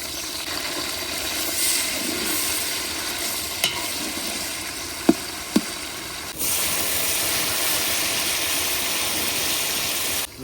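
Onion, ginger, tomatoes and green chillies fry in a pan with a steady sizzle, broken by a few sharp clinks of stirring, and the sizzle grows louder and denser partway through.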